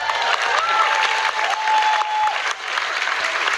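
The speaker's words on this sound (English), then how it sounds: "all I have to do is say Melissa Landsman's name and get some applause" Audience applause in a debate hall, a dense, loud roar of clapping from a large crowd that carries on steadily, with a faint whistle-like tone cutting through.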